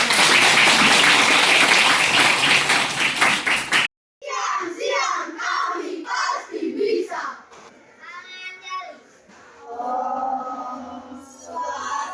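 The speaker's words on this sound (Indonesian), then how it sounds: "Mari kita lakukan tepuk semangat." A school group claps rapidly in a steady rhythm for a few seconds, then stops abruptly and children's voices and speech follow.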